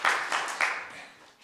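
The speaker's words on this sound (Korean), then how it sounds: "여러분 한번 박수해 주시고" A church congregation at a Sunday morning service gives a short round of clapping, a few quick bursts that fade out within about a second.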